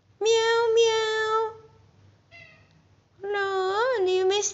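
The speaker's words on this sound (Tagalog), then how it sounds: "Nagmi-meow-meow siya." A cat meows loudly and close by, two long drawn-out calls with a faint short one between them, the last call rising and falling in pitch.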